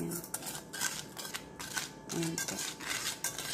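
Sweet caramel powder ingredients stirred together in a bowl, giving a steady scraping and clinking of a utensil against the bowl, with someone speaking briefly over it.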